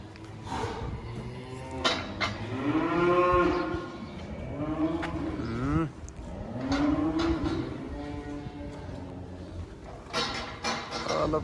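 Dairy cows on a German farm moo repeatedly, long drawn-out lowing calls overlapping one another, fairly close amid faint barn background noise.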